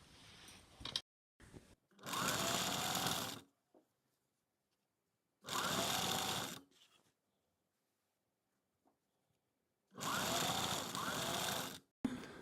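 Sewing machine running a finishing seam on a cigarette-style trouser, heard in three loud, steady bursts of a second or more each, separated by quiet pauses and small handling noises.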